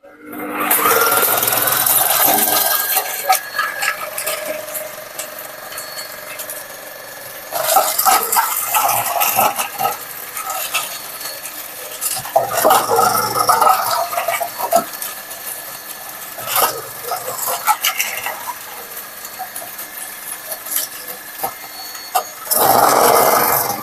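A Lidl kitchen robot chops cabbage with steady whirring motor noise in several bursts, separated by short pauses, loud and close with no talk over it.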